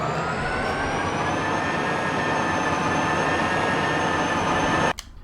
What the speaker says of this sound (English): we can try driving the train